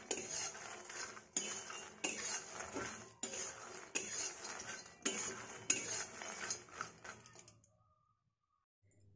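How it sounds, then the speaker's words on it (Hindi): Makhana (fox nuts) being fried and stirred in a pan until crisp, rhythmic bursts of scraping and rattling repeating about every second before stopping abruptly into near silence. "सबसे पहले हम मखाना को फ्राई कर लेंगे"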